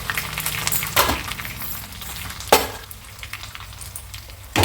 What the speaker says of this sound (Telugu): తాలింపు అయితే రెడీ అయింది.